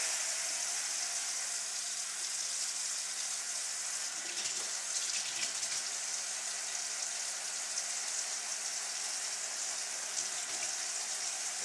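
Very hot water runs steadily from a kitchen tap into a large saucepan, a continuous loud hissing splash close by.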